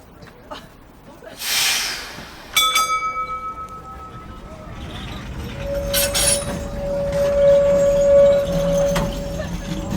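Auckland Dockline tram in motion, with a bell ring, a sharp clank and then a rising rumble and a sustained high tonal whine from the running tram, heard close with faint voices in the background.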